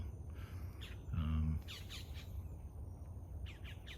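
Birds squawking and chirping in a fruit garden, several short calls scattered over steady outdoor background noise, with a brief low rumble in between.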